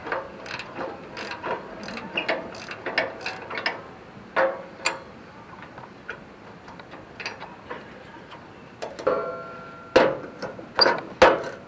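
A half-inch ratchet clicking as it works rusty bolts loose on an old go-kart, bursts of quick metallic ratcheting ticks with pauses between them, close and fairly loud.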